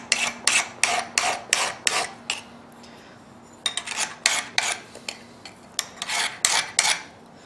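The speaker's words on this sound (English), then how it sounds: "half round file in our finger well here." A half round file rasps back and forth across a knife blade from a flint and steel custom knife making kit, giving rhythmic scraping strokes in two quick runs separated by a short pause, close and clear with no talk.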